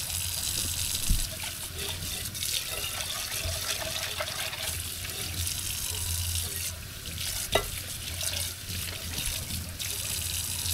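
Tap water gushes steadily from a heater-equipped faucet in a home in the cool highlands near Baguio, a continuous broadband rush with a couple of faint clunks, close and fairly loud throughout.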